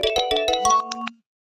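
A melodic phone ringtone signals an incoming call during an online class, playing a quick run of bright, bell-like tones for just over a second before cutting off into silence.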